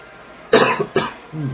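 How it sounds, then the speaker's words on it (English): A man fighting off a cough while commentating a Tekken match, two sharp close coughs in quick succession followed by a brief low throat sound. "Fighting off a cough."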